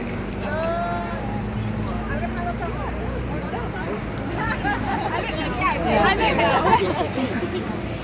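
Crowd of tourists outside the Colosseum in Rome makes a continuous babble of many overlapping voices, with traffic-like rumble underneath and some louder nearby chatter rising toward the end.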